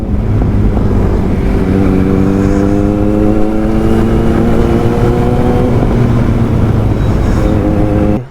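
Kawasaki Z900 motorcycle held in a long wheelie, its engine droning loud and close with steady rising harmonic tones, a continuous roar throughout.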